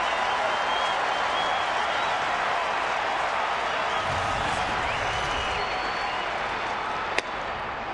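At a Twins home baseball game, a large stadium crowd keeps up a steady, broad roar of cheering and scattered clapping, hoping for a rally. A single sharp crack stands out near the end.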